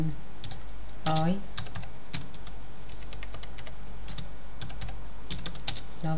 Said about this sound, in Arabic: طب تعالوا كده نجرب نكتب مثلا باراجراف